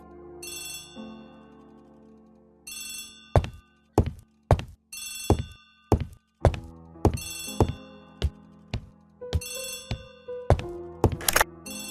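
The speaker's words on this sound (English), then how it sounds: "Poirot, the telephone." An old-fashioned telephone bell rings in repeated loud bursts, interspersed with sharp thunks and knocks, close by with no talk.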